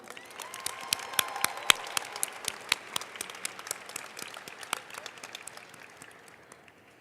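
Closing-ceremony audience clapping for a group of honorees, distinct individual claps standing out over a thinner crowd patter, gradually dying down toward the end.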